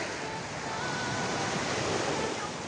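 Sea waves wash onto the shore in the dark in Bicol, a steady broad hiss of surf with some wind noise, continuous and fairly loud, with no clear talk over it.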